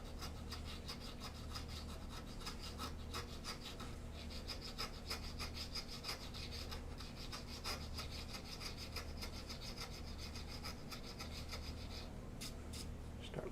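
A wood-carving gouge scrapes and rasps steadily across wood in rapid, repeated strokes, a close, continuous scratchy texture over a low background hum.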